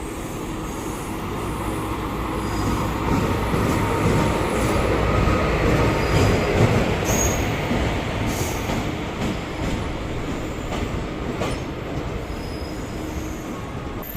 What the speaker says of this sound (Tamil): ஃபைவ் மினிட்ஸ் ஏர்லியாக 5:45க்கு வர வேண்டிய ஈரோடு திருநெல்வேலி எக்ஸ்பிரஸ் மதுரை ஜங்ஷனுக்கு 5:40க்கே வந்திருக்கு.